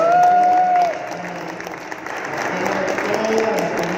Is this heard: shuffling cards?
no